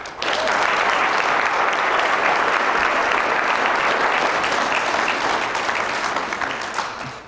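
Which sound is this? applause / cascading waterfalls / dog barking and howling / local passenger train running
applause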